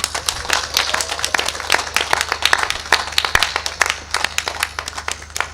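Graduation ceremony audience clapping for the graduates at Mbarara University, a loose crowd of distinct claps with uneven rhythm, moderately loud and close, with no speech.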